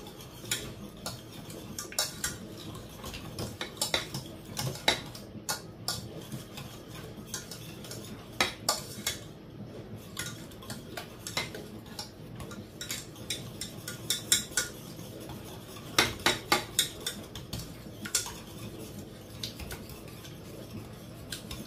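A whisk works butter into a beurre blanc sauce for trout, with rapid irregular metallic clicks and taps against the pan that come in bursts over a quiet background.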